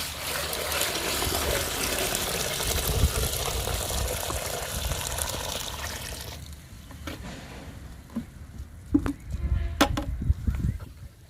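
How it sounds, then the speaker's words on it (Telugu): Water pours into a 10-litre bucket of moringa leaves as a strong, steady gush, then stops. Softer splashes and a few knocks follow. "ఇప్పుడు దీని నిండా వాటర్ పోసుకుందాము"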